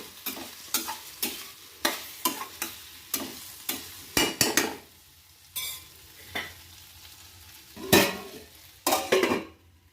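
A drumstick and bitter gourd curry with curry leaves cooks in a pan, with irregular knocks and scrapes of stirring over a soft, low sizzle.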